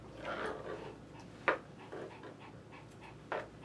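Papillon dog panting and making small noises while being groomed at close range, with a few brief sharp sounds standing out over a steady breathy background and no talk.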